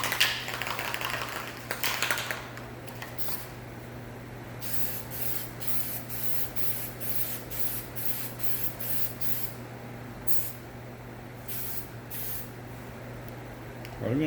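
Aerosol silicone coating sprayed onto a replacement door or fender of a 2015 Honda Accord Sport, a loud initial hiss followed by a long series of short, even spray bursts with steady background hum.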